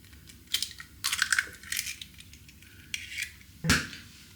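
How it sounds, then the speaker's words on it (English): Eggs cracked into a container for an Instant Pot egg loaf, a few sharp cracks and taps spread over several seconds, close and fairly quiet. "So crack in your first egg."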